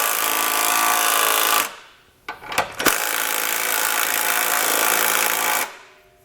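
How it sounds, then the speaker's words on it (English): A power tool drives a 17mm socket to snug trailer hitch bolts under a 2019 Buick Enclave, two long loud buzzing bursts separated by a short pause with a few quick clicks and taps between them. "we'll grab a 17mm socket and snug them up"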